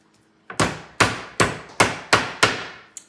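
Meat is pounded flat for sandwiches with six sharp, evenly spaced whacks on a board, loud and close, each thud ringing out briefly before the next.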